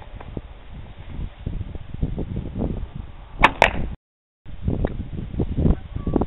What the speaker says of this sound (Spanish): Suelte la flecha.